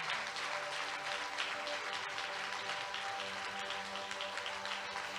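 A church congregation at Centre Vie Transformée in Montreal bursts into sustained applause, a dense, steady wash of many hands clapping close by for about five seconds, fairly loud and unbroken, with no clear talking over it.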